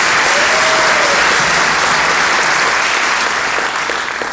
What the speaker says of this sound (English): But let's give a round of applause anyway for Bruce Mason.